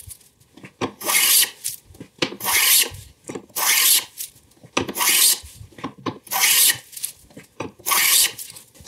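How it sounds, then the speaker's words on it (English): A hand plow plane cuts a groove in wood for drawer slips, giving steady rhythmic rasping strokes, about seven even passes with brief gaps between them, close and loud with no talking. "I kept taking passes with my plow plane until it stopped cutting anymore"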